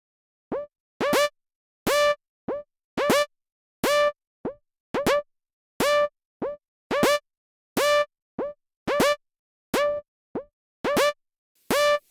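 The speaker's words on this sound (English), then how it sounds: "My goal is for it to constantly raise and lower the decay to get an interesting sound in the pluck of each note." A synth pluck programmed in Ableton plays a rhythmic pattern of short, bright notes. Each note has a crisp attack and a quick decay that shifts slightly from note to note, with clean silence between the notes.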